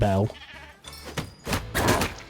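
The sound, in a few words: goat bleating in the video game The Plucky Squire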